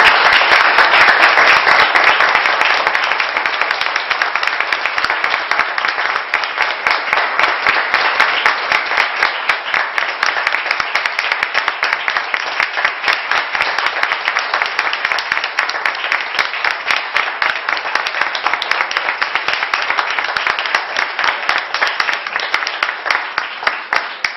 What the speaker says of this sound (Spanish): este aplauso es para vosotros